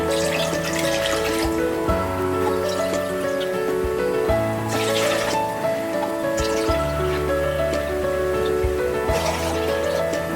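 Water is poured into a cooking pan while making spinach khichdi in a home kitchen. It makes a continuous splashing, trickling stream over steady background music, moderately loud, with no talk.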